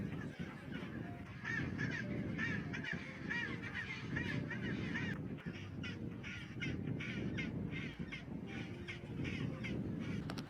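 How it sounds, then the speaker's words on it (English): A chinstrap penguin colony calls at an Antarctic nesting ground, with many harsh, braying honks overlapping into a steady, busy din. "Chin-strap penguins, small, quick, and fierce. They fight openly for nesting ground."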